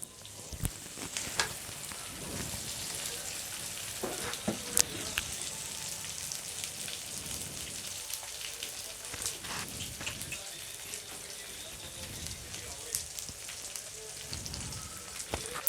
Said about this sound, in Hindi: अब इसमें डाल देंगे बैंगन जो हमने फ्राई किए थे।